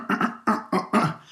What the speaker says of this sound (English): I clear my throat and let them have it.